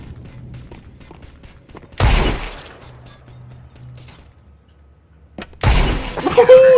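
Two loud, sharp video game gunshots ring out a few seconds apart, each with a crackling burst and tail, over quiet background noise and a faint hum.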